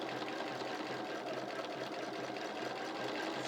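A sewing machine stitches steadily at a fast, even rhythm while quilting a design. Its continuous, moderately quiet mechanical whir runs unbroken with no voices.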